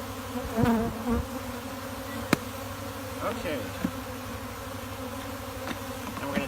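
Honeybees swarm around a disturbed hive during a queen replacement, a steady close buzz with individual bees zipping past, while a person speaks briefly.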